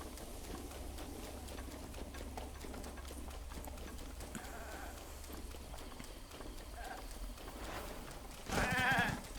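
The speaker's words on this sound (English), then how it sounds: "The goats are pretty aggressive." A goat bleats in a video game, a short nasal cry near the end that rises over quiet footsteps and faint game ambience, with no one speaking over it.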